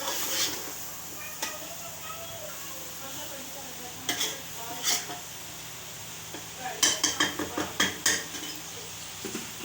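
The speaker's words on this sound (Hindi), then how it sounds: "अब इन तमाम चीज़ों को अच्छी तरह से मिक्स कर लेंगे मसाले के साथ" Egg and potato masala sizzles in a pan for a dhaba-style anda ghotala, and a utensil clatters against the metal in bursts of quick, rhythmic scraping and tapping.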